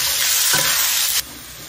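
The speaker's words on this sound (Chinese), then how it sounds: "小肉先把它炒" Minced pork fries in hot oil in a wok with a loud, steady hiss and a brief scraping stir, and the sizzle abruptly quiets to a softer level near the end.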